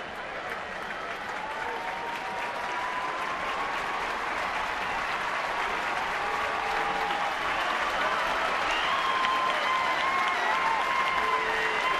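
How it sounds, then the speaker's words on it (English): A baseball crowd at a Giants home game against Cincinnati stands and applauds an injured player, sustained loud stadium clapping and crowd roar with faint tonal whistles and voices mixed in. "Now they all stand in applause."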